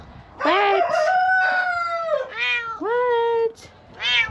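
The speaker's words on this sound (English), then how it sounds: "The cat is mad." A cat lets out a series of long, loud, drawn-out yowling meows, close by, separated by short pauses.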